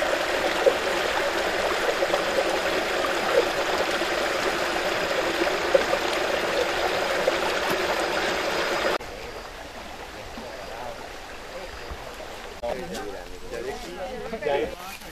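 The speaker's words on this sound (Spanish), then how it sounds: "este es otro pequeño manantial que fluye a la quebrada" Small spring-fed stream of drinking water running down into a ravine, a steady close rushing flow that drops to a softer trickle partway through, with someone talking over it.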